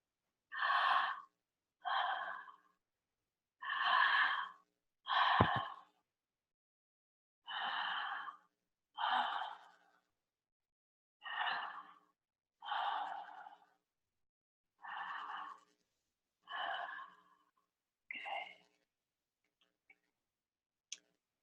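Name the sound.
deep breathing during breathwork exercise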